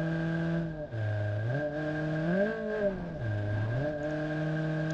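A Fiat Uno in BeamNG Drive revs up and down, its engine tone climbing and dropping in several swells with steady harmonic whine, fairly quiet and alone.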